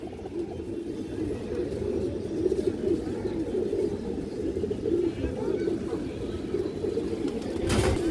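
Caged pigeons coo steadily in a low, throaty, rolling murmur, several birds overlapping close by, while someone speaks over them.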